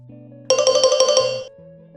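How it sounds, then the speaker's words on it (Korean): A telephone rings once in a short bright electronic trill lasting about a second, loud and close, with a low hum before and after. "전화벨이 몇 번 울리기도 전에 전화를 받더군요."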